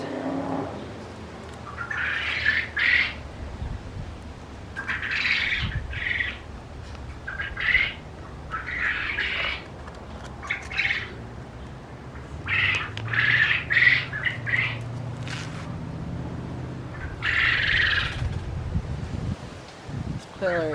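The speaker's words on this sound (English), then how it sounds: "Quail are enjoying the sunshine." Quail squawk and call in repeated short bursts in sunshine beside a freshly planted tomato and tomatillo bed, moderately close, with rustling and faint outdoor background between calls.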